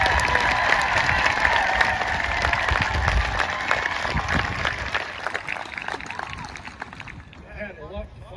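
An audience at a school district Veterans Day celebration claps in a sustained round of applause, loud at first and gradually thinning toward the end, with some voices mixed in.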